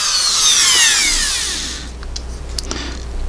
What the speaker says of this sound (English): I'll just drill out.